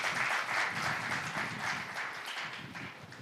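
Church congregation clapping together during a men's Sunday service, a steady, dense burst of many hands applauding for a few seconds with no one speaking.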